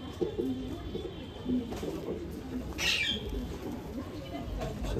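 A male pigeon of the Sakdum breed coos nearby in low, soft, repeated notes over faint background noise.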